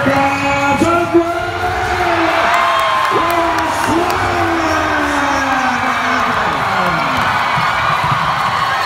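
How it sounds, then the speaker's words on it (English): Basketball crowd at the Congen's Cup game in Dubai roaring and cheering, a loud sustained wall of voices with whoops rising through it, steady throughout and dense from start to finish. "Listen to the crowd roar!"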